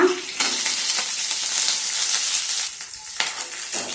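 Green chillies and fresh coconut frying in hot oil in a pan, a loud steady sizzle with short stirring scrapes and brief dips as the pan is worked; no talking.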